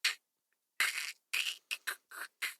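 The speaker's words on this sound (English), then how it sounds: "as the glass starts to crack" A glass tank cracks as a quick series of sharp, dry crackles and snaps. Seven or so separate bursts come at uneven intervals with silence between them, fairly quiet and close.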